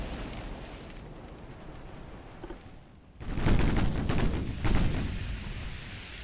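Naval guns thunder in a 1936 Pacific battle in Ultimate Admiral: Dreadnoughts, with a distant rumbling barrage first, then louder overlapping salvos booming after a brief lull.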